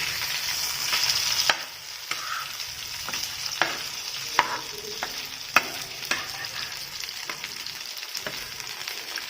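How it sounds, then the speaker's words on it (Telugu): Fish pan-frying in oil in the style of a Hyderabad fish fry, with a steady close sizzle broken by sharp clicks and taps from stirring and flipping the pieces in the pan, and no voices. "మనం ఇలా ప్యాన్ ఫ్రై చేస్తున్నాం కాబట్టి మసాలాలతో సరిపోతుందండి."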